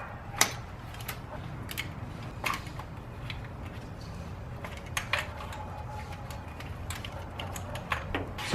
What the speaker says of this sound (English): You have to undo some bolts first.